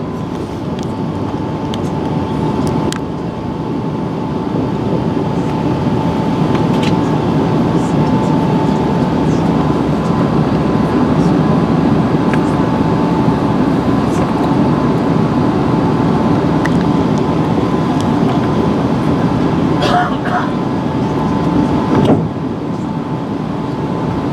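Inside the cabin of a British Airways Airbus A380, a steady, loud broadband roar with a faint tonal hum fills the space throughout, with a few brief clunks near the end.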